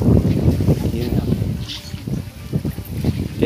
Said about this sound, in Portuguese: Ai, tá ventando muito.